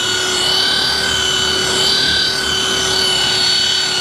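A steady rotary polisher drones continuously while working over old, rough paint, the tone even and close throughout with no talk.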